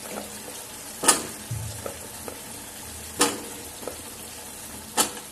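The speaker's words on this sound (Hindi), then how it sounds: "अब हम इसमें जो पपीते के पीस कट करे थे वे ऐड करते हैं।" Raw papaya pieces going into hot oil for an Indian sabzi, a continuous soft sizzle broken by three sharp clanks of a utensil against the pan, with no talking.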